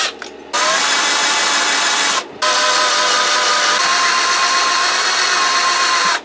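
A loud power drill whining steadily into metal, drilling out a motorcycle bolt, running in two long stretches with a brief stop between them, very close.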